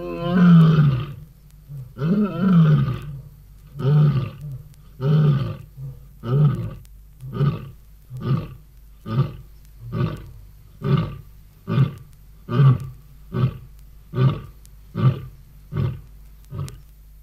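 A lion's deep roars repeat in a long series, starting with a few drawn-out bellows and then settling into shorter, evenly spaced grunts that gradually fade.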